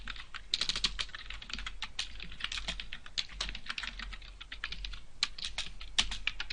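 Fingers type code on a computer keyboard in quick, uneven bursts of close, crisp key clicks, pausing briefly between runs, with no voices.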